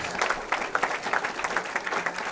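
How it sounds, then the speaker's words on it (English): Audience at a junior bowling stepladder final applauds a third-place U18 boys finisher, a short burst of rapid, fairly close clapping from a modest crowd. "Let's give a big round of applause and congratulate our 3rd place finisher in the U18 boys division, Silas Limes."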